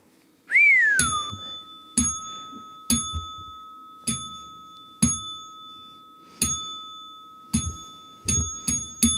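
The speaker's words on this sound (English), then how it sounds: "That's 10 bell rings right there from Devil Dog Prepper, man." A bell rings out with a bright sustained tone, struck about ten times in steady succession, each strike sharp and then ringing on, fairly close and loud.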